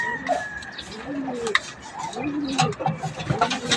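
A black hen and a rooster cluck and call close by, several short overlapping bird calls in rough bursts, with a faint voice in the background.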